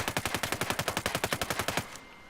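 ARX200 assault rifle in Ghost Recon Breakpoint firing in full auto, a rapid, even burst of about eighteen loud, close shots lasting nearly two seconds, then a short fading tail.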